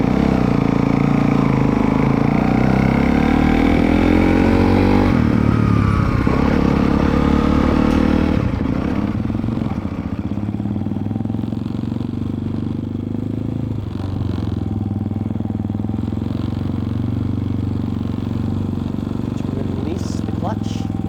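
A dirt bike engine idles and revs loudly close by in an outdoor riding lesson, sputtering unevenly before dropping to a lower, rougher running tone, with people talking over it.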